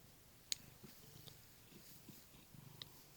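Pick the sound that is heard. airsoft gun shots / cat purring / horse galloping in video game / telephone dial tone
cat purring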